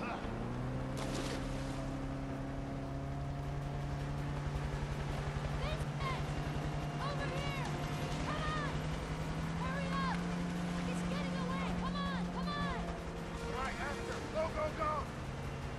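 Motorboat engine during a chase in A Way Out, a steady droning hum running under shouted voices and scattered gunfire-like bursts.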